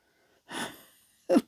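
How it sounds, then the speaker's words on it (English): A person with a blocked nose breathes through an open mouth: a soft, breathy exhale followed by a sharper, louder wheezy gasp of breath, close and alone with no talking. "I was sitting here breathing with the mouth open."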